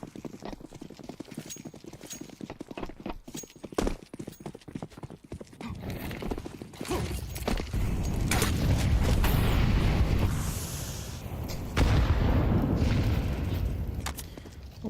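Grenades go off in a Counter-Strike esports match: rapid clattering footsteps and clicks give way to heavy, rolling low booms that swell and linger, followed by another loud blast near the end.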